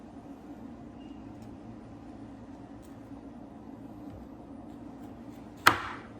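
A knife makes one sharp, close cut through a thick aloe leaf near the end, after a long stretch of quiet, steady room hum.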